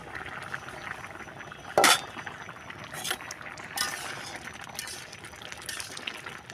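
A single bright metallic clink as the lid comes off a pot of mung dal cooking with a katla fish head, followed by quieter knocks over a low, steady simmer with no voices.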